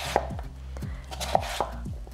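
Knife cutting potatoes into three-quarter-inch pieces on a cutting board, a steady rhythm of close, crisp chops, about a dozen strikes with light knocks between them.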